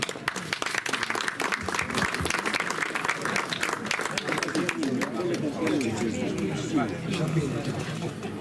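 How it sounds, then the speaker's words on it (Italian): Sustained audience applause at an Italian community poetry event in Atzara, with dense clapping running steadily throughout and crowd chatter mixed in as it fades toward the end. "Un applauso a Franca."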